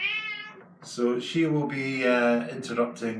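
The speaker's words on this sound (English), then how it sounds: "So if you hear meow, meow in the background" A house cat meows repeatedly near the microphone, its cries overlapping with a person talking indoors.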